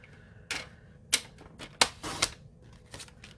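A paper trimmer cuts a 4 by 4 inch piece of cardstock, giving a handful of sharp, close clicks and short slicing scrapes spread unevenly over a few seconds, with no talking.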